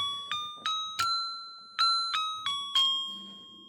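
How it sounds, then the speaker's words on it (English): A circuit-bent chip's oscillator sounds a series of clear electronic beeping tones, about eight bell-like pulses that step between pitches and decay quickly, close and alone with no talking. "So there's an oscillator in there, and essentially what you're hearing is a pitch or a key."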